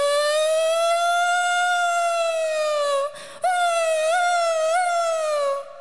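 A voice imitates an ambulance or fire engine siren, a loud sustained wailing tone that rises and falls gently, briefly breaking off for a breath midway before resuming, close and alone.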